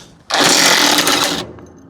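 A power tool whirs loudly for just over a second, removing the back bolt of an Ifor Williams Knott hitch damper, then cuts off.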